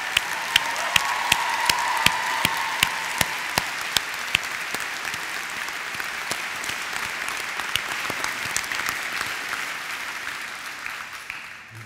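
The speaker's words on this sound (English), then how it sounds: "That applause tells you whether you're a good teacher or not, Jean." Audience applause at a University of Dundee graduation ceremony, a long, steady clapping from a large hall crowd, with several sharp nearby claps standing out early before the sound gradually thins toward the end.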